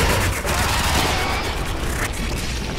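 Gunfire in Warframe as a dense, loud, continuous barrage of shots and booms, a steady wall of combat noise with no clear gaps.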